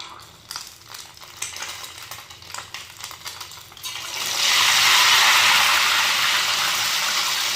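Ghevar batter is poured into hot ghee, setting off a loud, dense frothy hiss that swells suddenly partway through after softer clinks and stirring sounds.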